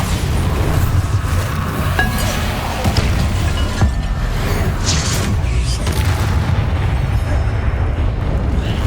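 Bombarda spell blast in the Hogwarts Legacy video game, heard as a dense, loud rumbling burst amid continuous battle noise, with sharp cracks and clinks layered over a heavy low-end roar throughout.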